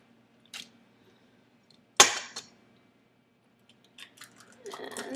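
An egg cracks for Oreo peanut butter brownie batter: one sharp, close crack in a quiet kitchen, followed by faint rustling and light clatter.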